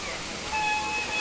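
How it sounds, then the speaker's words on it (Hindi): Kakolat waterfall in Nawada, Bihar, pouring down from above as a steady, dense rush of falling water, a constant broadband roar with no breaks, heard close by. "एक वाटरफॉल रहा, यहीं से पानी गिरता है ऊपर से"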